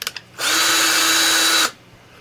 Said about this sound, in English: So you can drill into this stuff.